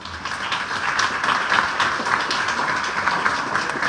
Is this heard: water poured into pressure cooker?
no